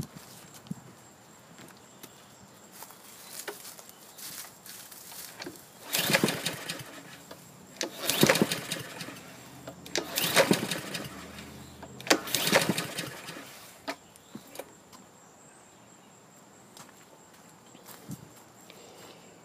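Troy-Bilt TB130 lawn mower that will not start, suspected of having no spark, being pull-started by hand: four loud rasping recoil pulls in quick succession mid-clip, each a short burst without the engine catching, with quiet handling noise before and after.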